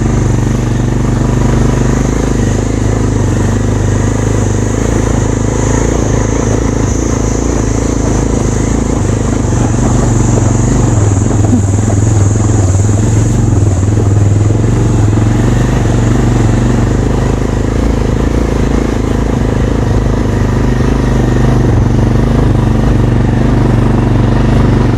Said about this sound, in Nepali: पछाडि बसेर जाउँ कान्छी घुम्नलाई बुलेट बाइकमा।